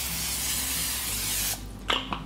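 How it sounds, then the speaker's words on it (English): A continuous hissing spray from a cooking spray can into a casserole dish, close up, stopping abruptly, followed by a couple of light clinks. "I'm gonna spray it with a little cooking spray"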